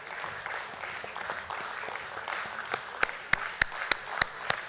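Applause from a crowd at the BSE listing ceremony of Muthoot Microfin Limited thins out, leaving a handful of loud, evenly spaced single claps close by toward the end.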